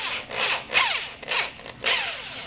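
A small electric drill spins a wooden spoon used to mix wine made from concentrate, whirring up in four short, loud bursts with rising and falling motor pitch and brief gaps between them.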